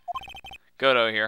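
A cellphone ringtone rings briefly during a Phoenix Wright game, a short run of quick repeated electronic beeps followed by a louder sustained melodic tone. A voice speaks in the clip.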